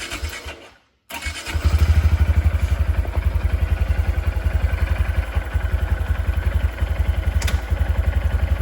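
A 2025 Honda Grom motorcycle with a freshly adjusted clutch fires up after a brief cutout and settles into a loud, close, steady idle, its rapid single-cylinder thump continuing throughout.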